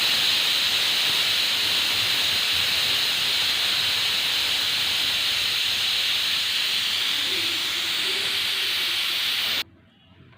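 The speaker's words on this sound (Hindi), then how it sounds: "प्रेशर निकाल देंगे, सीटी को निकाल के।" Steam hisses loudly and continuously from a pressure cooker of beef as the whistle weight is lifted off, a steady close rush that cuts off abruptly near the end.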